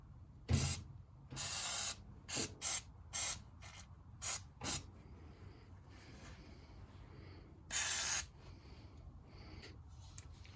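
Penetrating oil from an aerosol can sprays onto a CV axle at a steering knuckle in several short bursts, with one longer burst near the end and quiet pauses between.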